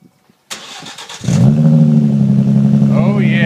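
After a brief click and a short cranking whir, a 2013 Roush RS engine with a Pype Bomb exhaust fires up and settles into a loud, steady idle, with a faint voice near the end.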